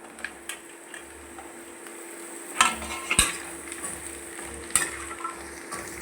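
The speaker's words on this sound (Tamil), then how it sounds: "அரை கிலோ செகப்பு பூசணி தோல் நீக்கி கட் பண்ணி வச்சது இருக்குது பாருங்கள் இதை போட்டு நல்லா வதக்கணும்" Peeled red pumpkin pieces sautéed in a pan with onion and green chilli: a gentle sizzle with a few sharp clinks and scrapes of a spatula against the pan, close by, no voices.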